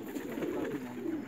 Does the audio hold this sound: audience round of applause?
no